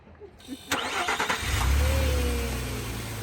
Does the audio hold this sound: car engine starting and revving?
yes